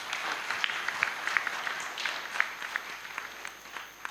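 An audience at a finance talk claps steadily for several seconds, a moderate wash of scattered handclaps at a slight distance.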